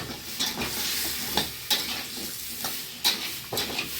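Leafy greens are stirred and sautéed in a pan with a little water: a soft steady sizzle broken by rhythmic scraping strokes of a spoon about every second, close by and without any talking.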